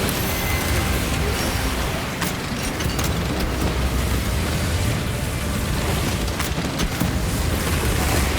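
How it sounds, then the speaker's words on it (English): A frag grenade goes off in the sci-fi shooter Warhammer 40K: Space Marine 2, a loud, sustained rumbling boom that fills the whole stretch amid dense battle noise, with sharp cracks breaking through near the two- and seven-second marks. "Deploy frag grenade!"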